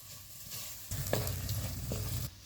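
A spoonful of asafoetida dropped into hot oil for a Maharashtrian kadhi, a soft sizzle that swells suddenly and holds with a few stirring clicks before easing off, close and without talk.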